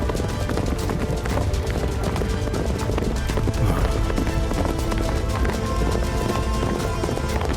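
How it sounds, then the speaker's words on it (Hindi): A herd of horses gallops past with dense, continuous pounding hoofbeats, loud and steady throughout, with a possible whinny mixed into the rumble. "अरे ये घोड़े कहाँ से आ गए?"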